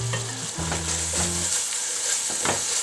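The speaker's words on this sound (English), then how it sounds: "Give it a good stir." Ratatouille vegetables frying in a pan with thyme and Provençal herbs are stirred, producing a loud continuous sizzle with scraping stir strokes over it and no speech.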